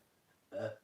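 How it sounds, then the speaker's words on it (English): A single close burp from a person doing stretching exercises, one short throaty eructation of about a third of a second rising out of near silence and ending abruptly. "Oh no, I'm gonna burp again."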